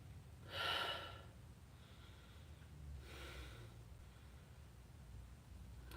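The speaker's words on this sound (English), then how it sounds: "I'm gonna sniff the cap." Two sharp, close nasal sniffs at the cap of a bottle of the perfumery ingredient Farnesol, with a quiet pause between them and faint breathing in a quiet room.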